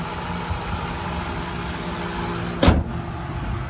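A 2019 Mitsubishi ASX engine idles steadily at close range, a smooth, even hum with one short, louder clunk partway through.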